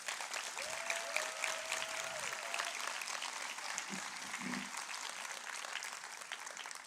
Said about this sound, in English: give a round of applause to our staff